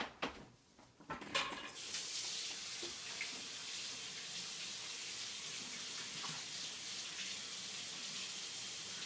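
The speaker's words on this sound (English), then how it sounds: "Let me go wash my hands" A few brief knocks and clatters of handling come first, then a kitchen tap gushes for hand washing, a constant loud rush of running water.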